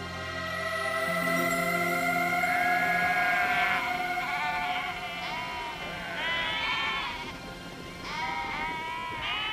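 Several sheep bleat again and again, loud and close, their wavering calls overlapping like a flock calling all at once.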